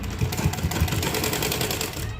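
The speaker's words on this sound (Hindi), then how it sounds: "डबल सिलाई लगाए देखे" A sewing machine runs a double line of stitching on a dhoti salwar, giving a steady, close mechanical whirr for a couple of seconds, with a voice faintly in the background.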